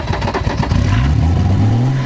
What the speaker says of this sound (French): on va démarrer les voitures